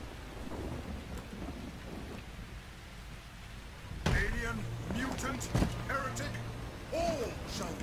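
Rain falling on a new map in the Warhammer 40k Eternal Crusade video game, a steady rain hiss with low rumbling, under someone talking in German.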